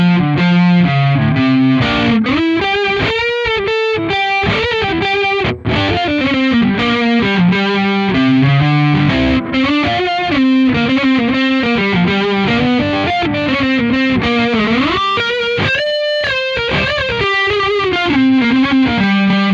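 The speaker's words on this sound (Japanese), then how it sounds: "続いてジェミヌスをかました音を取ってみたいと思います。" An electric guitar plays through a Zoom G5n multi-effects unit with the Geminus effect, giving a loud, continuous distorted tone with rich layered harmonics as melodic lines rise and fall, broken by only a brief pause.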